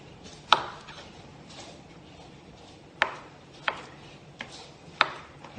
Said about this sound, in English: So I will get started in cutting up the mushrooms.